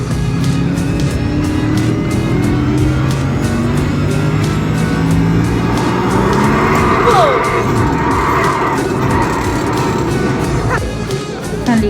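Race cars roll around a NASCAR track behind a pace car, engines droning steadily in a dense, continuous blend with crowd noise and a voice over the loudspeaker throughout.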